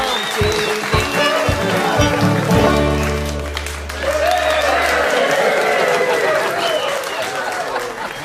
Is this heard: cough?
no